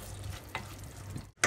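A filling mixture with water, salt, cumin, pepper and red pepper cooks in a pan for a puffed pastry, giving a soft, steady low sizzle with faint stirring scrapes and a brief louder stir at the end.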